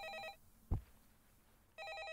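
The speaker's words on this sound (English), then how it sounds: "I'm not gonna answer that phone." A telephone rings in the horror video game A Favor: a short burst of electronic ringing, then a single dull thump and a quiet pause before the ringing returns, close and clear with no voices.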